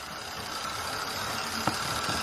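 An Airfix Royal Scot model locomotive runs with a steady, low mechanical whir from the gearing in its tender, a continuous hum with one brief click partway through.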